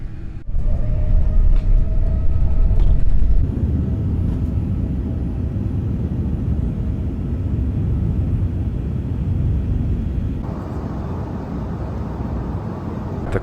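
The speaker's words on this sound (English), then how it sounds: "It's time for takeoff." Jetstar airliner takeoff heard from inside the cabin: a loud, steady broadband engine roar and rumble builds early, holds, then swells again near the end, with no talk.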